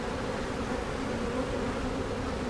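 Honeybees hum at an open hive during an inspection, a steady close drone of many wings with no voices over it.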